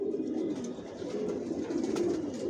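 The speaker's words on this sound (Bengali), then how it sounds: "ভিউয়ার্স দেখতে পাচ্ছেন এখানে সব অ্যাডাল কবুতর, পায়ে ট্যাগ লাগানো আছে" Adult Johnson-line racing pigeons coo loudly and continuously, their low rolling calls overlapping into a dense, close-up chorus from a loft of tagged birds.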